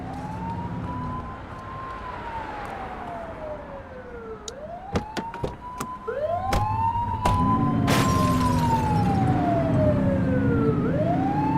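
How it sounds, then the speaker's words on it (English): Police car siren in The Precinct video game wailing loudly in rising and falling sweeps over a running engine, with sharp clicks and bursts cutting in midway and the siren growing fuller toward the end. "You're only meant to use the siren in emergencies."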